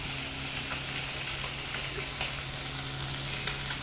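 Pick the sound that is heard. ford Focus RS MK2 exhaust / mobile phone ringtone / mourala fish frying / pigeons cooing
mourala fish frying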